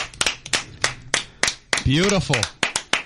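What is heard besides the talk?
hands clapping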